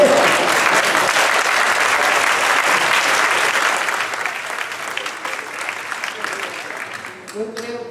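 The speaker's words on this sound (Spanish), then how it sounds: "Los aplausos no son para el Che, sino para la demolición" Loud, sustained applause from an audience at a book fair talk, dense clapping that slowly fades toward the end as a voice begins to speak.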